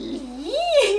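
A house cat gives a single drawn-out, rising and falling yowl with a growly edge, heard close and alone for about a second.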